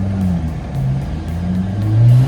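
A Ferrari supercar engine idles loudly at a toll station, a deep steady rumble that swells briefly toward the end, with no speech.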